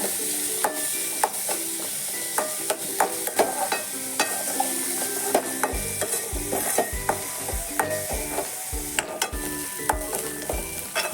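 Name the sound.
onion and green chilli frying in a pan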